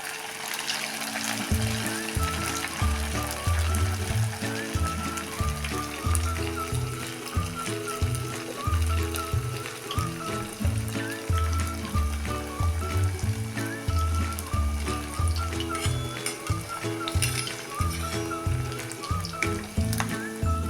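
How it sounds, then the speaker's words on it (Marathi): Sabudana vadas deep-fry in hot oil over a low gas flame with a steady, continuous sizzle, and music plays faintly beneath it. "आता एक एक करून हे आपले आपले वडे सगळे आपण तळून काढूया"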